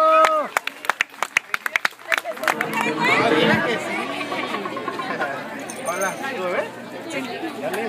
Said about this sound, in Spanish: Aplauso, que se escuchen esas manos amigas.